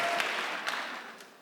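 Steady applause from a church congregation during a worship service, dense and even, fading slightly over a second and a half.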